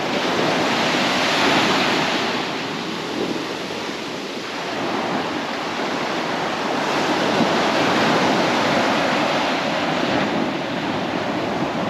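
Ocean surf rolling onto Bethany Beach, Delaware, a continuous broad wash of breaking waves with wind noise, steady and fairly loud throughout with gentle swells in intensity and no voices.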